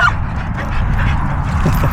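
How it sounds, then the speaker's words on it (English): Dogs entering a dog park whimper and yip eagerly close by, short excited whines and barks over a low rumbling background. "Some very excited dogs going into the dog park."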